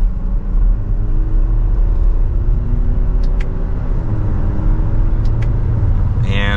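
A Lexus NX350 Premium driving on the road with a steady, loud engine and road rumble as it gathers speed, tyre and wind noise carrying throughout with a couple of faint clicks near the end.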